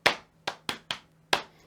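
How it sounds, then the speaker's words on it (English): Hands tapping a two-against-three polyrhythm on a hard surface: five sharp, close taps in an uneven pattern over under two seconds, with no voices. "a polyrhythm is basically where you have two or more rhythms happening simultaneously"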